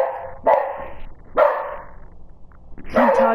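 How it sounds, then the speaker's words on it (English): A dog barks three times at spaced intervals, fairly close and loud, indoors in the afternoon, with quiet background between the barks. "The dog just starts barking randomly."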